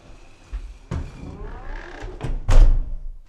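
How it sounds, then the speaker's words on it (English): Inside an old house, a door closes with a sequence of sharp knocks and thuds spread over a few seconds, ending in a heavier, louder thump, with no voices. "That was the door."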